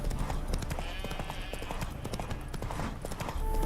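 Roach, the horse in The Witcher 3, trots along with steady rhythmic clip-clop hoofbeats, loud and close, with a background tone and a faint voice.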